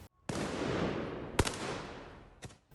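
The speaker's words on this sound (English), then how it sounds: "Footage showed protesters firing fireworks toward riot police, who responded with tear gas." Fireworks shot toward riot police at a night street protest, a sustained crackling roar punctuated by two sharp loud bangs, close and harsh, with no talk over it.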